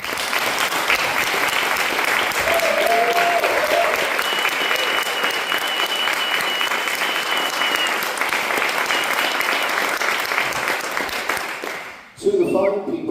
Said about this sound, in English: could I ask for a round of applause for the entire ensemble of the St Albans